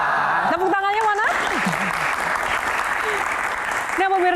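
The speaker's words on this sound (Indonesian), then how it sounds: "Tepuk tangannya mana?" A television studio audience applauds steadily for a few seconds between stretches of a presenter's speech, the clapping dense and close.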